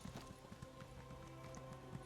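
A horse's hooves clip-clop in a steady rhythm in The Elder Scrolls Online. The sound is faint and comes with background game ambience.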